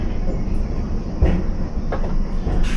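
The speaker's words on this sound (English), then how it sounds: "You might have heard the change in the wheels as it went over the points." A London Underground Piccadilly line train rolls along at night, its wheels rumbling and giving a few brief clacks as they cross the points, a steady low roar with no talk.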